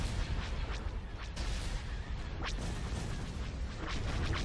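Space battle weapon fire in Star Wars: Empire at War, a continuous barrage of laser blasts and cannon shots that crackle and boom over a dense rumbling battle backdrop, with sharp whooshing shots standing out now and then, loud and busy throughout.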